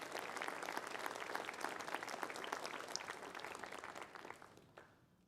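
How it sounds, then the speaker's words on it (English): Steady applause from a concert audience at a youth concerto competition and Juneteenth celebration, dense and sustained clapping that fades out near the end. "let's give them a round of applause"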